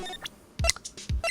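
Ace Attorney video game buzzer chiming through two short electronic tones with thumps and blips in between, brief and alone with no talk.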